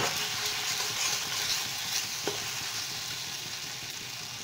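Turmeric and red chili powder stirred into hot oil in a frying pan while cooking drumstick stalks, giving a steady, close sizzle with faint scraping from the stirring and no talk.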